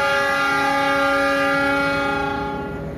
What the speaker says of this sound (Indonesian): inilah kereta api Argo Bromo Anggrek jurusan Surabaya Pasar Turi